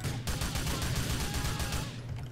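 Heavy gunfire during a police standoff in a movie, a dense, loud volley of overlapping shots rattling on continuously for a couple of seconds with no talk.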